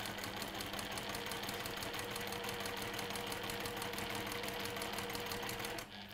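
A sewing machine runs steadily and alone through a back stitch at the start of a quilting seam, its dense motor hum holding nearly constant before cutting off abruptly near the end.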